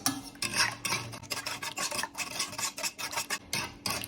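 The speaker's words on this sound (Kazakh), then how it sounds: "Енді жақсылап араластыру керек. Жұмыртқаларды езіп." Eggs and cream are stirred in a bowl as preparation for bread buns, a steady run of scraping, rubbing strokes, close and fairly loud with no voices.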